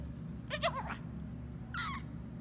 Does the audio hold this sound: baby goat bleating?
yes